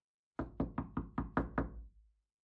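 Six firm, evenly spaced knocks land on a hotel room door, each a hollow, resonant thud ringing briefly in a quiet room.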